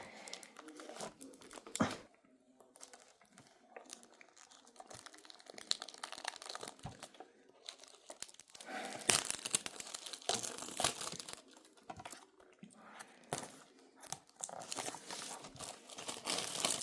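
Scissors cutting open a package of UK souvenirs during an unboxing, with crinkly plastic and cardboard rustling, tearing and snipping in irregular bursts, fairly close but quiet, with pauses between handling sounds.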